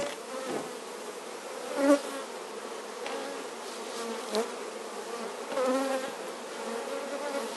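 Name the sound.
honeybees buzzing around hive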